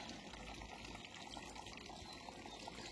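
Water from the filter outlets of a garden pond circulates with a steady, even rushing and trickling, filling the whole stretch at a low, constant level with no voices.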